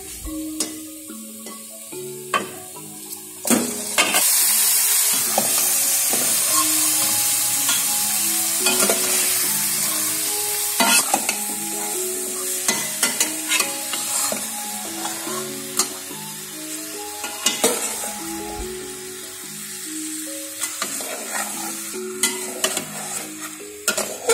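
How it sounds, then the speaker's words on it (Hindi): Chicken pieces fry with lightly browned onions in a pan for white shahi korma, a loud steady sizzle broken by repeated stirring clinks and scrapes, close up and heard over soft background music without any talk. "प्याज लाइट फ्राई हो चुके हैं और अब हम इसमें चिकन ऐड करेंगे"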